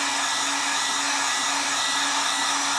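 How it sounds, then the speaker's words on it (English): A heat gun set on low blows steadily over E6000 glue, a constant airy whoosh with a faint fan whine, loud and unbroken throughout, with no talk. "I'm going to take a heat gun. You can also use a hairdryer on low. I'm using my heat gun on low."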